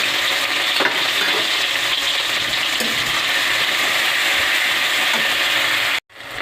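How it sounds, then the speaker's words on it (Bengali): Ginger, garlic and onion paste frying in a pan with tomato and green chilies for a fish curry, a loud steady sizzle and hiss close up, with faint stirring scrapes, cutting off abruptly near the end. "এবার আদা, রসুন আর পেঁয়াজ বাটাটা আমি এর মধ্যে দিয়ে দিচ্ছি।"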